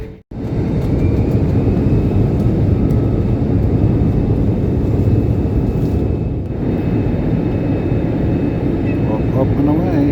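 An airliner on a flight to Phuket roars steadily in a loud, broad engine wash that swells and holds for several seconds, with indistinct voices mixed in.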